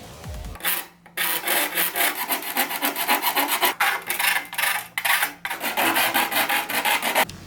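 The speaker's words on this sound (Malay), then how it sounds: "Sekarang ni aku nak ratakan dia punya lubang ni." Metal file rasping back and forth to smooth a drilled hole in a custom car air intake heatshield for an Evo X 4B11T, a close, steady series of harsh strokes with brief pauses.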